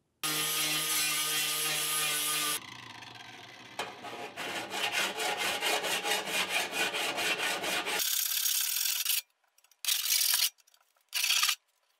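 Rhythmic scraping strokes rasp across a drill press casting, a fast back-and-forth sanding rhythm smoothing bumps, broken by a loud continuous whir and a few abrupt bursts.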